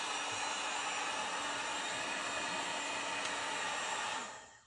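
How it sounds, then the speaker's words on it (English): A heat gun blows hot air over the wrap of a 1970s Slingerland drum, a steady close whooshing roar that runs unbroken for about four seconds, then tails off quickly as the gun cuts out. "It's just a heat gun and a putty knife and a little patience. You just take your heat gun."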